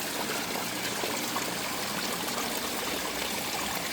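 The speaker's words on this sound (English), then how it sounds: "it stops a lot of the splash right there on the back of that rock" Water rushes and splashes steadily against the back of a rock, a dense, close, continuous broadband wash with no pauses and no voices.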